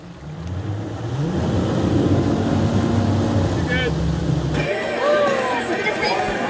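Boat motor idling low and steady as the boat moves through a flooded forest, a continuous rumble with some engine pitch change, and other sounds joining near the end.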